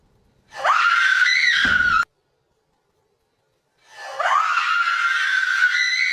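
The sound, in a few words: woman screaming in fright at a large spider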